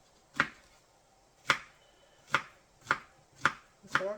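A knife cuts through a banana onto a board, six crisp separate chops spaced about half a second to a second apart, close and clear against a quiet background.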